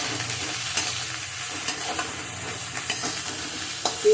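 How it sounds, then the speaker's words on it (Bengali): Eggplant and flat beans fry in oil in a pan, a continuous close sizzle broken by clinks and scrapes of stirring, with a sharper knock near the end and no voices. "বেগুনটা সিমটা ভেজে নেব"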